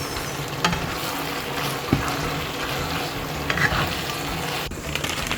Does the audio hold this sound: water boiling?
yes